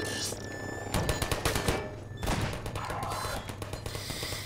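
Rapid gunfire in the shooter game Half-Life 2, Chapter 9a Entanglement, with dense overlapping bursts and shots crackling loudly throughout, some heavier thuds mixed in.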